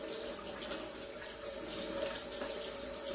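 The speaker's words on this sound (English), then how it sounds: "I'll just run the water" Water running steadily from a tap during work on a Mercedes 450SL auxiliary air valve, a constant even splashing hiss with a faint ringing tone underneath, close and unbroken for a few seconds.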